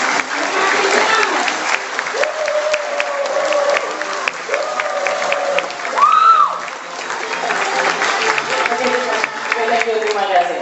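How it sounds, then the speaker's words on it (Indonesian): Loud sustained applause fills a hall at a business networking event, dense clapping from a large audience with cheers and whoops rising over it and voices mixed in. "Gedung ini akan terlihat meriah ketika Anda tepuk tangan yang sangat luar biasa sekali lagi."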